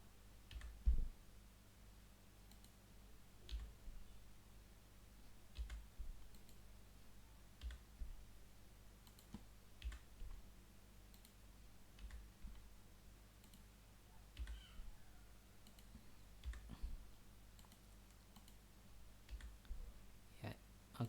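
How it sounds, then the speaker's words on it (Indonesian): Soft, sparse clicks of computer keys and a mouse, alternating at an unhurried pace during digital calligraphy editing, faint and close with a quiet room hum underneath. "tekan delete, klik, tekan delete, klik, tekan delete."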